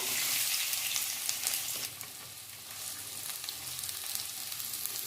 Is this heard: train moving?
no